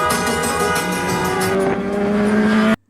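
Loud car engines of a wedding convoy in Algeria revving and droning together, with a steady high tone rising over the roar before it cuts off abruptly.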